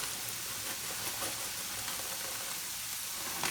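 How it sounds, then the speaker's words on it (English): Bacon sizzles and spits in a hot frying pan, a dense, steady crackle of fat holding at an even level throughout with a few sharper pops near the end. "to get that bacon frying nicely"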